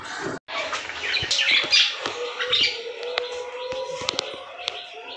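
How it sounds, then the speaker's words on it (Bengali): Several birds calling and squawking nearby, with sharp chirps and some rustling, fairly loud and irregular over a few seconds. "পাখিগুলো ডাকাটাই করছে, শুনতে পাচ্ছি আমি জোর"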